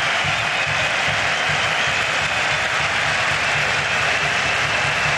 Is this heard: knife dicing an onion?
no